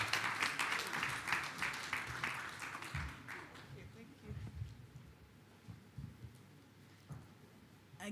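An audience at the Stanbic National Schools 2021 final applauds to welcome Stanbic Bank executive director Emma Mugisha, dense clapping that fades after about three seconds into scattered claps and talk.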